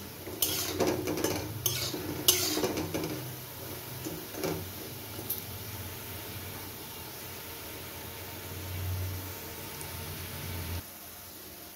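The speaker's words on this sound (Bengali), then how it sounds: "ওই জন্য আমি একটু কড়া করে ভেজে নিচ্ছি।" Drumstick flower fritters fry in hot oil until crisp, with a steady low sizzle and several clinking and scraping strokes of a utensil against the pan early on, close by and with no talking.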